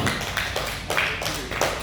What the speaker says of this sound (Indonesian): kita kasih tepuk tangan dulu tuh Adi